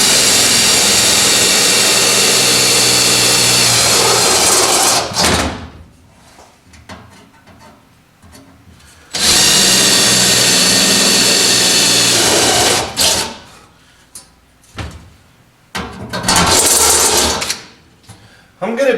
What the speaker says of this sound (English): I'm going to come in with the little step drill and start buzzing in some holes